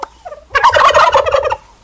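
A domestic turkey gobbles once, a loud close rattling burst lasting about a second, after a few faint calls in a farmyard in Krasnodar Krai.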